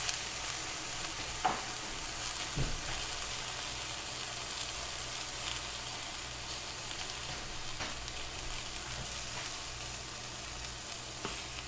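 Shrimp sizzling in a hot frying pan as they go in, a steady, bright hiss that holds evenly throughout with a few faint clicks and stirring sounds, no talking.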